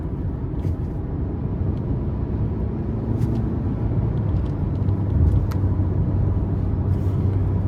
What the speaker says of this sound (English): Now it does tend to rev a little hot, as you can see.